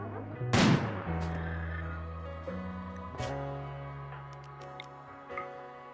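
Gunshots in RimWorld: one loud sharp blast near the start with a ringing tail, then a few fainter shots and clicks spaced over the following seconds against sustained tonal music.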